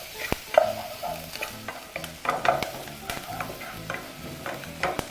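Charred onions fry in a pan, stirred with a utensil that makes repeated scraping and tapping strokes over a low crackling sizzle, close and moderately loud, no talking.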